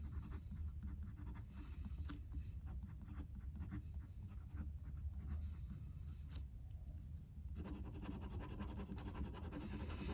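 A medium-nib TWSBI Classic fountain pen with Diamine Kensington Blue ink writes on toothy Graphilo paper, producing a faint, continuous soft scratching with small irregular strokes and no talk.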